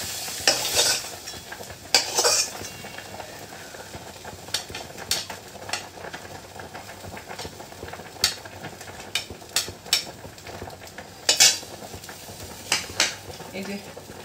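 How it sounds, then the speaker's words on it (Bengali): Chicken meat being cooked in a pan on a home stove, with a spoon scraping and clinking against the metal at irregular intervals over a soft steady sizzle. "চলো শাকটা তুলে মাংসটা বসাই"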